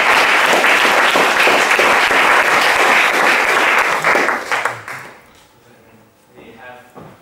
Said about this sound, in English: warm applause for our speakers